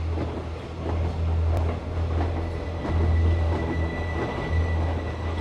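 A moving train gives a loud, steady rumble with a low droning hum and a soft clickety-clack beneath it, sustained throughout as if heard from on board.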